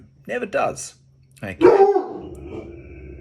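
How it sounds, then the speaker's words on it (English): A dog barks indoors, one loud bark near the middle that trails off into a low whine, while someone speaks briefly before it. "Apologies for my dog again. He's a bit barky today."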